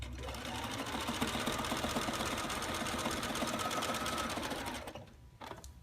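A sewing machine stitches a stuffed doll, humming in one continuous close burst with a fast steady rhythm for nearly five seconds before stopping, then a few light handling sounds.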